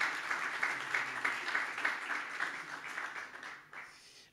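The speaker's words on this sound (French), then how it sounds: "si vous voulez l'applaudir pour l'accueillir" Audience clapping to welcome a guest at a tech talk, a soft, fairly distant wash of applause that holds steady and then tapers off toward the end.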